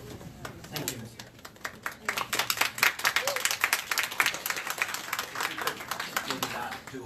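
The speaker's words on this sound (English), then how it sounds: "Maybe not do applause here, it's not really appropriate." Applause ripples through a legislative committee hearing room after testimony on an Equal Rights Amendment bill, with scattered clapping rising and falling for several seconds, fairly close, over a low background murmur.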